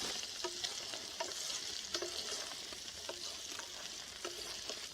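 Sliced onions fry in a pan, a soft steady sizzle at moderate distance with repeated light stirring taps and scrapes spaced through it, no talking.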